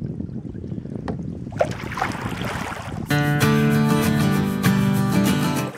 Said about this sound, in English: Look at the speed I've generated with just a few paddle strokes going downstream.